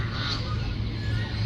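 Ducks honking by the water in a park pond, a steady busy chorus of calls over low background hum, fairly close and continuous throughout.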